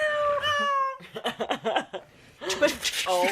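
A cat meows in a video game, a clear rising-and-falling mew up front, then chuckling and snickering laughter, followed by another drawn-out cat cry toward the end.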